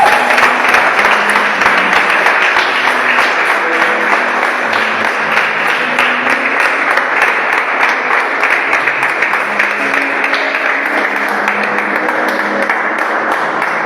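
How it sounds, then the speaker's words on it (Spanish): A church congregation claps loudly and continuously during a worship service, a dense, even wash of applause lasting nearly fourteen seconds with no break. "Dale un aplauso al Rey de Reyes."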